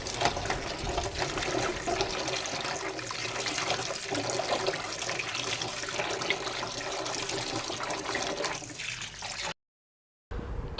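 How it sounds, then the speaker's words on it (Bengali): Water splashes and swishes steadily as cut taro roots are washed, a continuous close rinsing noise that runs for several seconds before cutting to silence near the end. "কচুরমুখীগুলো হচ্ছে কেটে এখন ভালোভাবে ধুয়ে নিব।"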